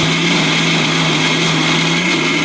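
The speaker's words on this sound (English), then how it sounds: "I'll go grind." A mixer grinder runs steadily, grinding jackfruit for a Kerala-style payasam for Vishu, with a loud, constant motor whine and no break or speech throughout.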